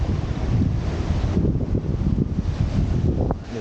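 Ocean waves and surf churn sand on a beach at Figueira da Foz, Portugal, a steady broad roar of breaking water mixed with heavy wind buffeting the microphone throughout.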